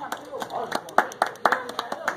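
A small group applauds a seven-straw world record attempt, uneven hand claps in a steady patter at close range, with voices talking over them.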